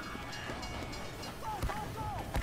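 A train rumbles past in the Team Fortress 2 video game, a low rolling drone with clanking thumps and a few tonal squeals, fairly faint within game noise.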